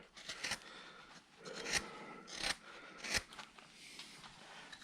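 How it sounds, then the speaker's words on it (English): Hand gouge carving into a wooden Santa figure cut out on a bandsaw, a series of short, crisp scraping cuts in an irregular rhythm, close and fairly quiet, with no talking. "It's just gouge work now."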